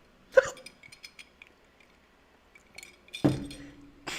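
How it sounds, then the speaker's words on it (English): One brief hiccup sounds close by in a quiet room, followed after a pause by a second short catch of breath and faint clinks. "Oh, excuse me, hiccups."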